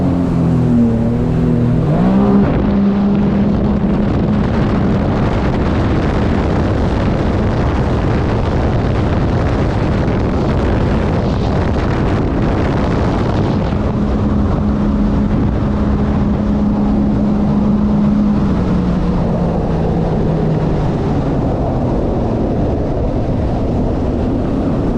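A Sea-Doo RXP-X 325 personal watercraft engine runs loud and steady on the water, warming up with rising and falling revs and hard bursts of acceleration during hole shots, with no talk.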